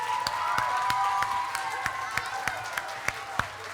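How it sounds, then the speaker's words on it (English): A school audience applauds after a children's rap battle performance, with soft crowd noise and a few sharp, distinct claps standing out over a sustained tone and background voices. "A round of applause for these amazing rock stars."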